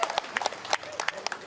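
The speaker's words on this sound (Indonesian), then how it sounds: "Tepuk tangan." Scattered hand clapping from a small crowd at a Heroes' Day commemoration ceremony at a state Christian religious institute, with uneven, separate claps over a brief stretch and voices murmuring in the background.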